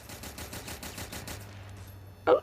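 Rapid automatic gunfire from a Sten gun in the World War Heroes video game, a fast even burst lasting over a second, then a brief louder shot or impact after a pause.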